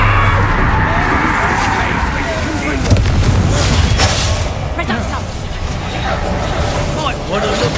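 A Confringo explosive spell blast in the video game Hogwarts Legacy, booming impacts and rumbling debris over a busy combat soundscape, with a voice talking over the loud, sustained noise.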